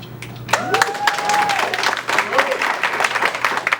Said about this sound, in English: everybody give another hand clap for her coming through one time